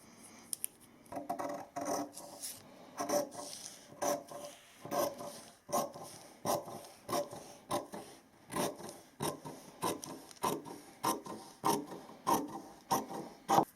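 Scissors cut a paper pattern piece out of fabric for an Elizabethan doublet, making close, rhythmic crisp snips about twice a second, alone in a quiet room.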